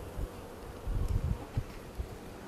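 Honeybees buzz at an open beehive during a summer hive inspection, a faint low hum with brief swells as bees move near the frames.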